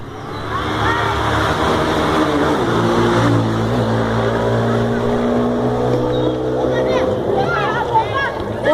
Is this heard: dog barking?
no